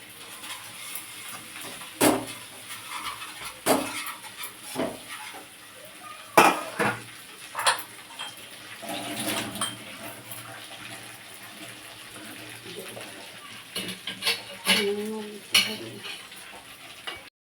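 Onions frying in a pan as garlic and ginger paste go in and get stirred, soft sizzling under irregular scraping and clinking of a spoon against the pan, fairly close with no talk.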